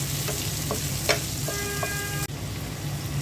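Chopped onion fries in a pan with a constant sizzling hiss, a few light clinks of a stirring spoon and a brief dip in the sound, close by and without talk.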